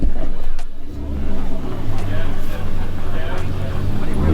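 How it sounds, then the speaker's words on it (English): At a local charity car show, a Maserati rolls in with a low, rumbling engine idle and light throttle blips, while people talk faintly around it. "Maserati's just pulled in as well"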